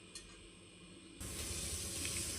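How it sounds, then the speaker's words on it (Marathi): Onion sizzling in hot oil in a pan, a steady broadband frying hiss that jumps louder partway through and continues close and even, with no voices. "तर चला हा कांदा मी फ्राय करते"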